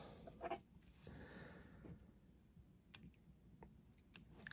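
Small scissors snipping thread at a fly-tying vise, a few faint, crisp clicks and snips scattered across a quiet, close setting.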